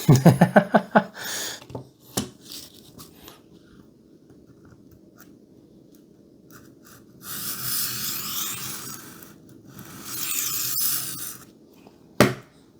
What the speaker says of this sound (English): I need to keep sharpening this till I get one sharp at least